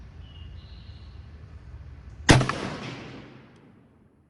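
A Lee-Enfield No5 MkI rifle fires a single loud, sharp shot outdoors during sight-in, its report decaying over about two seconds into quiet, with a faint hum beforehand.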